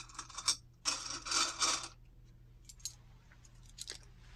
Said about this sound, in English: without a set of random keys that you really have no idea why you have them